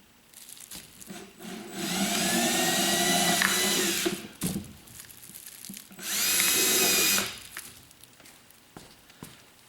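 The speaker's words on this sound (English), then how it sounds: "I'll just drill an 1/8 inch hole through here." A power drill whines in two steady bursts, each a couple of seconds long, drilling an eighth-inch hole, with quiet pauses and light handling noise between them.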